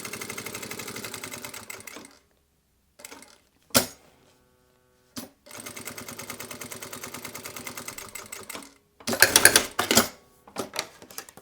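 Sewing machine stitching lurex bias binding along the edge of a fabric passport wallet, running in rapid mechanical bursts broken by short pauses and sharp clunks, close and clear without talk.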